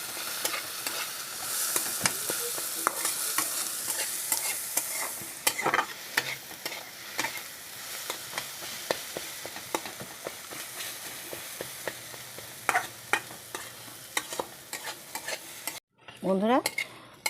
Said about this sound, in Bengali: মাছের সাথে এটাকে ঘেটে নেব